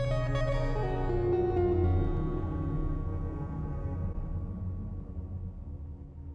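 Guitar fed through a Sonicware Texture Lab granular processor, sustained pitched tones smeared into a decaying wash that fades gradually, steady and moderately loud with no voices.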